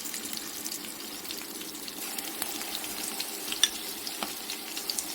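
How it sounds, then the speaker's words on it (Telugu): Ginger garlic paste frying in a pan for homemade chicken biryani, a continuous close sizzle with faint crackles and occasional light clicks of stirring. "ఇప్పుడు మనం అల్లం వెల్లుల్లి పేస్ట్ అయితే యాడ్ చేద్దాం"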